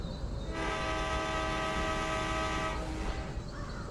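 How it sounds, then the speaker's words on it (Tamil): A train horn in the video game Train Horror blasts in one long sustained tone for about two seconds over a steady rumbling background, then cuts off. "ட்ரெயின் வேறு ஹார்ன் அடிக்குது."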